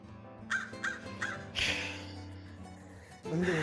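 Crows in a role-play video game caw three times in a quick series, followed by a harsher, louder burst of cawing and another call at the end, set against a low background hum.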